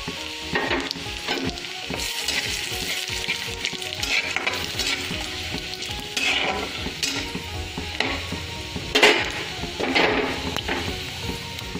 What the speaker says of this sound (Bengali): পেঁয়াজটা ভাজা হয়ে গিয়েছে, 5 ফোড়ন দিয়ে দেবো।